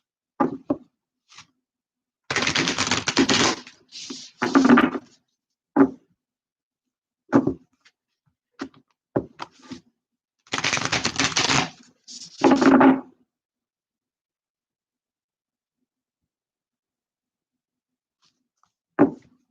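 Tarot cards are shuffled in two long, dense riffling bursts, with scattered soft taps and brief handling noises between them and near silence elsewhere.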